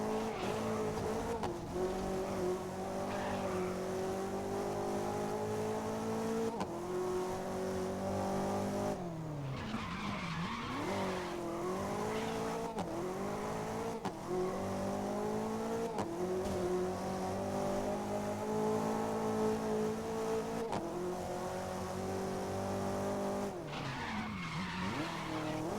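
A high-powered car engine drones loud and close throughout, its pitch rising and dipping as the driver revs and lifts, while tyres squeal and skid repeatedly over it.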